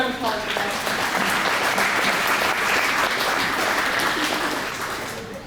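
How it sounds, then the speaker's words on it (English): Audience applause at the 2022 Fiesta Days rodeo queen competition, a loud, dense wash of clapping and cheering that holds steady for several seconds before starting to fade. "Let's give a round of applause for that."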